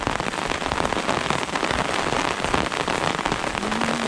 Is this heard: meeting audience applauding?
no